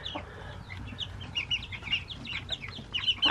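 Several chickens cluck in short, irregular bursts close by, with a bright, busy rhythm of calls and no talking.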